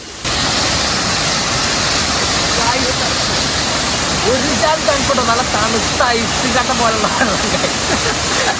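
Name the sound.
Thusharagiri waterfall rushing water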